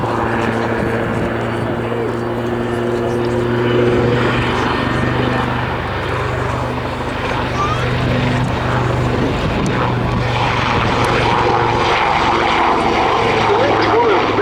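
A Westland Lynx helicopter flies a display at the RAF Cosford Airshow, and its engine and rotor drone loud and steady throughout. An announcer speaks over the aircraft noise.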